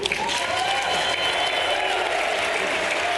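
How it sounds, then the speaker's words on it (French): Sustained applause for Volodymyr Zelensky at the European Parliament, with a large assembly clapping in a dense, continuous roar at steady loudness throughout, a faint cheer briefly rising within it. "ces applaudissements nourris"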